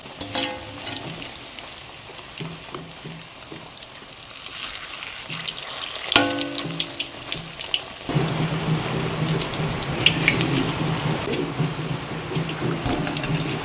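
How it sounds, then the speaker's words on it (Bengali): Chilli chops dropped into medium-hot oil fry with a steady crackling sizzle that grows louder and denser partway through and stays continuous to the end. "একেবারে গরম তেলের মধ্যে দিয়ে দেবো। তেলটা মিডিয়াম হিটেই আছে"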